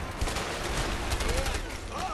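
Gunfire in the co-op video game A Way Out, a dense busy mix of rapid shots and bursts with game effects layered throughout, steady and loud for the whole stretch.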